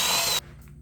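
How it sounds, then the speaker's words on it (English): A brief burst of a power drill whining loudly as it drills a hole in a small wooden box, then cutting off abruptly, leaving quiet room tone. "and then drill it out."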